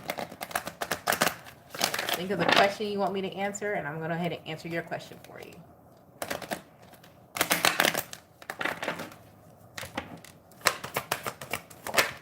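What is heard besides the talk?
shuffling tarot cards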